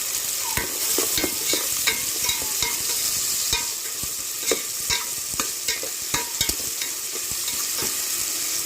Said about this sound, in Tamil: இது கொஞ்ச நேரம் எண்ணெயில் அப்படியே வதங்கிட்டோம்.